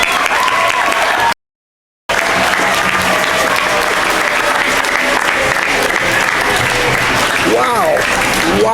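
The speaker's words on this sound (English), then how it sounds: "All these kids, give them a big round of applause." An audience at an awards ceremony applauds loudly and continuously, a dense wash of clapping hands that fills the hall, broken by a brief cut and rising again, with a voice speaking near the end.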